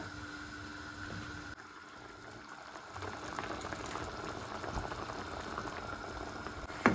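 Chicken curry in coconut milk, Jaffna style and made without oil, bubbles at a steady rolling boil in a pot. The simmer runs continuously and fairly loud throughout, with no voices.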